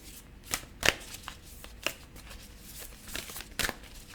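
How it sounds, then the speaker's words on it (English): A deck of tarot-style reading cards is shuffled by hand, giving scattered soft riffles and sharper snaps of card against card at an uneven pace, close and fairly quiet. "Shuffling these cards is literally impossible, but I'm doing my best."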